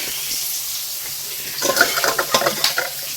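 Fish sizzles and spits in hot oil in a wok, a steady hiss of frying that grows louder and more crackly partway through, with sharp pops and spatters up close.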